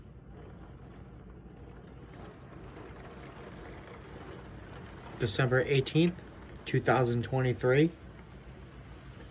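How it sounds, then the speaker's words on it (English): Heavy nighttime rain and wind at 3:40 am in Norwich, Connecticut, a steady hissing wash throughout, with someone speaking over it in the second half. "It is pouring like hell out there."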